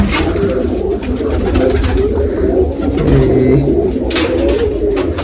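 Several pigeons coo in soft, repeated low calls close by, layered over a steady background hum.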